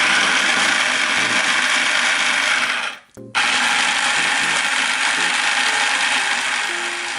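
An electric blender grinds ingredients with a little water for a pempek vinegar sauce, a loud, close, continuous whirring that stops briefly for a moment before starting up again.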